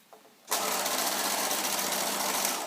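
A sewing machine stitching a one-piece collar onto a garment neckline runs at a steady, fast, continuous whir after a brief quiet start, close and loud with no pauses.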